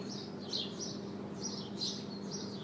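Small birds chirp in a city, quick high tweets in a few bursts over a low steady urban hum, moderately distant.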